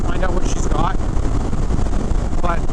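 Indian Chief Sport motorcycle riding on a track in standard mode, its engine a steady loud drone mixed with heavy wind buffeting across the whole stretch, with a few brief rising whines.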